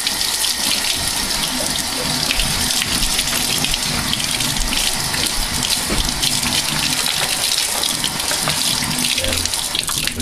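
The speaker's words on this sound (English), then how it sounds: "you just rinse it in cold water" Cold tap water runs steadily into a sink while bean sprouts are rinsed, a constant close splashing gush with small clattering shifts, no talking over it.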